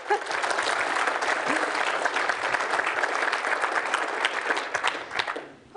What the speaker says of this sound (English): some applause would be good